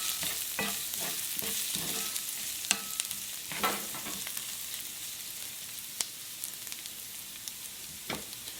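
Garlic fries in olive oil in a pan, a soft continuous sizzle punctuated by repeated scraping and tapping of a spoon as it is stirred.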